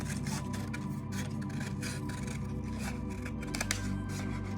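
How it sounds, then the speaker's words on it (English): Scissors snip steadily along a paper spiral for a space-party decoration, giving a continuous close run of soft crisp cutting and rubbing sounds without speech. "And then I cut the spiral towards those marks."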